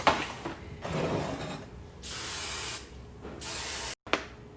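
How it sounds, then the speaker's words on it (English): A spray bottle mists small potatoes for baked potato skin appetizers, several distinct hissing bursts in sequence with brief mechanical clicks of the trigger between them, close and alone. "I'm going to spray the little potatoes"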